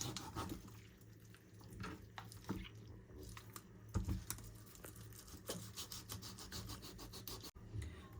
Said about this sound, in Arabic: طبعا يا جماعه انا بدات اقطع في الفرخه الثانيه